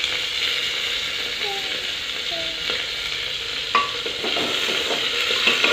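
Cauliflower, soybean chunks and green chillies sizzle and fry in a pan while a spoon stirs them with scraping clicks, a steady close hiss throughout with occasional louder scrapes.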